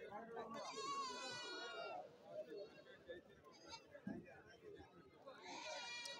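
Goats bleat at a Kerala livestock market, with several wavering cries close by over a murmur of crowd noise and people talking.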